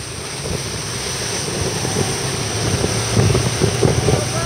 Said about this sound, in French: Le vent super fort, les éléments sont déchaînés